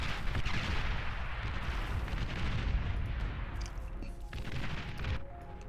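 Dense, continuous rumbling barrage of artillery fire in the real-time strategy game Beyond All Reason, with many overlapping booms and impacts blending into a steady roar, loud throughout with no talking.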